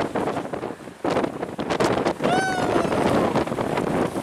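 Strong wind buffets the microphone on a mountain plateau in Torres del Paine, Patagonia, a loud steady roar with gusts as a hiker whoops and talks excitedly over it.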